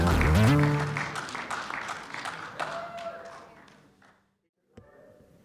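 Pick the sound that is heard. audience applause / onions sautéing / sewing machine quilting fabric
audience applause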